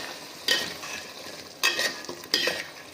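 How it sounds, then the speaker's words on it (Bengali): Mutton sautéing with ground spices and black pepper in a pan, a soft continuous sizzle broken by three sharp scraping stirs of a spoon, close and fairly quiet, without speech. "মাংসটাকে কষিয়ে নেব।"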